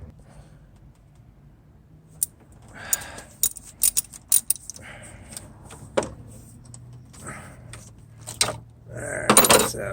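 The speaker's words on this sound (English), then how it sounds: "this is a 13mm socket that you're going to need to get to the bolts right there. So let's start loosening those up" Metallic clicks and jingling from a 13mm socket ratchet loosening the thermostat housing bolts on a 2006 Infiniti M45, irregular close taps and rattles over a low steady hum.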